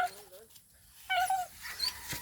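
A dog whimpers in thin, high wavering whines, a short cry at the start and more plaintive yelps later, with a voice talking over part of it.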